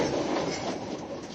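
A train pulls out of a station, a steady rumbling roll with faint rail clatter at moderate distance, no voices.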